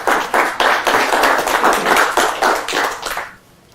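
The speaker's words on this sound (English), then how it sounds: "Another round of applause for him." A crowd at a magic performance gives a round of applause, brisk close clapping that holds for over three seconds and then stops.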